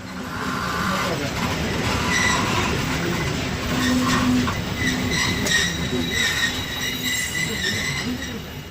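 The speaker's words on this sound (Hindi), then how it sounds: "इस वक्त हमारी ट्रेन स्किप कर रही है पटीजन जंक्शन रेलवे स्टेशन को" Aboard the Rehman Baba Express as it runs through Pattoki Junction station without stopping: steady rumble, clattering wheels and occasional squeals, fairly loud and close throughout.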